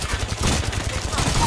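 Rapid gunfire in the video game Apex Legends, a loud continuous stream of closely spaced shots with heavy low thumps running through the whole moment.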